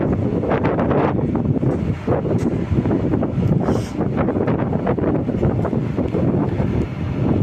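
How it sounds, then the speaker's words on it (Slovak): Strong wind buffets the microphone continuously, a loud roaring rush with gusty swells and no pauses. "Fúka to jak hovado."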